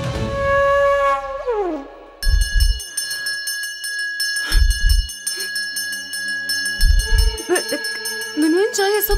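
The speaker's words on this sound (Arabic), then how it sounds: "من وين جاي صوت الجرس اللي عم يرن؟" A bright, sustained ringing tone holds steady for several seconds over a layered musical background, with a few deep thumps and brief voices mixed in.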